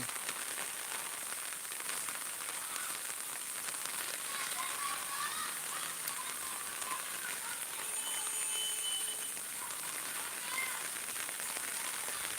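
Heavy early-morning rain pours down steadily on a village near a temple and an old primary school, a dense even hiss with no break, a few faint sounds rising above it.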